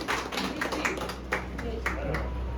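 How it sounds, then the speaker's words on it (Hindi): A crowd at a company annual function claps to welcome a guest: a brisk patter of hands from many people, moderately loud, with voices talking over it. "तालियों से एक बार स्वागत किया जाए रंजीत जी सोनी का।"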